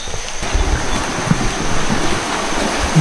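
Outdoor water rushing at a river in Bali, a steady broad hiss and wash with some wind buffeting the microphone, fairly loud and continuous without talk.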